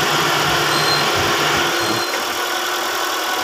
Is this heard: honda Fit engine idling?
yes